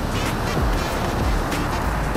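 Surf rolling onto a beach at Kasiguran, a steady broadband wash of waves with low rumbling swells, fairly loud and continuous with no voices.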